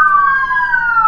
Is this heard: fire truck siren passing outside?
yes